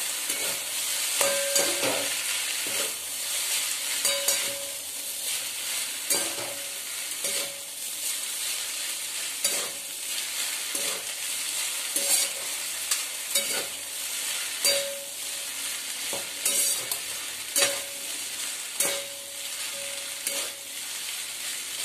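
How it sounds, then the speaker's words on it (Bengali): Food fries in soy sauce in a pan while being stirred, the spatula scraping in repeated irregular strokes over a steady, moderate sizzle. "এটাকে ভালো করে মিক্স করতে থাকবো।"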